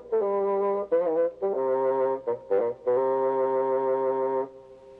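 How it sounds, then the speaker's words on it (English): A bassoon plays a short solo phrase of sustained, reedy notes separated by brief breaks and a few quick note changes, close and clear with no other instruments. "It's the bassoon."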